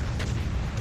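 Explosions booming in the video game Duke Nukem: Manhattan Project, a dense, continuous low rumble of overlapping blasts filling the short moment at steady loudness.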